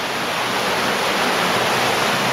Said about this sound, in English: Now we're approaching Top Waterfall.